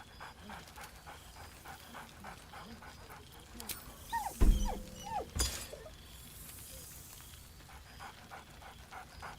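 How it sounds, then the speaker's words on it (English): Scratch the dog in Baldur's Gate 3 pants and gives a couple of short, loud barks midway, over a steady game ambience with some speech. "Scratch barks merrily in something like agreement."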